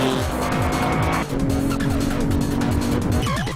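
A car engine screams at full speed around 180 mph, loud and close, with a sustained high roar, rapid rising gear-like sweeps and a brief dip partway before the howl resumes, no talking.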